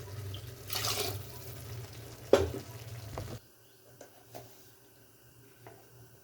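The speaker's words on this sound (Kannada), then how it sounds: "4 ಲೋಟಕ್ಕೆ 8 ಲೋಟ ನೀರು ಹಾಕೋಣ" Water pours into a cooking pot of rice being made into tomato cashew rice. A rushing, splashing pour comes in short bursts over the first few seconds, followed by quieter clinks and knocks.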